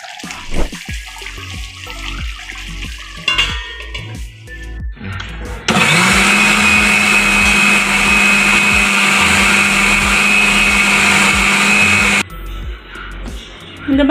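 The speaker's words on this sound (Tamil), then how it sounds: "நம்ம எடுத்து வச்ச தேங்காய் அரைக்கலாம்." An electric blender grinds grated coconut into a paste for duck curry gravy, a loud steady motor whir lasting several seconds alone after a stretch of kitchen clatter.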